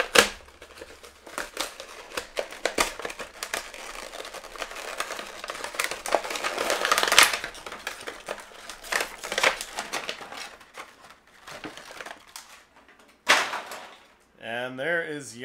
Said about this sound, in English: let's get Leia out of the packaging and we'll take a closer look at her